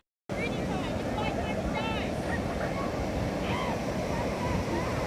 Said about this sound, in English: Welcome to the beach!